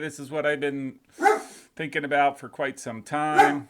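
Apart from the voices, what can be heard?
dog barking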